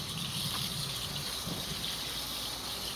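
Water runs in a steady, loud gush as soap is rinsed out of tie-dye shirts. The rushing flow goes on without a break and no one speaks.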